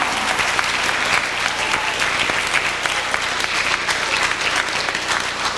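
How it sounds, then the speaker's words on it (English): Loud, sustained audience applause for teachers standing in a school gathering, dense clapping from many hands continuing evenly without talk. "Big applause for them."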